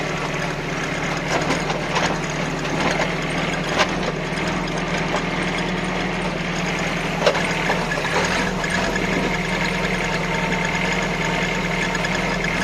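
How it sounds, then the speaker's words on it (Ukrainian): A tractor with a front-mounted blade drives downhill while clearing ground, its diesel engine running in a steady, continuous drone with a faint knocking beat and occasional rattles. "працює лопата. Ще покажу, як вниз їду."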